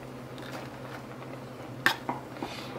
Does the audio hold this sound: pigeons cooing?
no